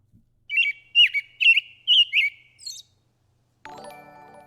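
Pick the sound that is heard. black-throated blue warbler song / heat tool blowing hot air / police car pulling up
black-throated blue warbler song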